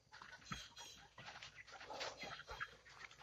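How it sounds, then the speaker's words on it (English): Faint, quiet clucking from two loose chickens in a farm setting, scattered soft calls with some low thumps and rustling, distant and weak. "Where are these two chickens being out?"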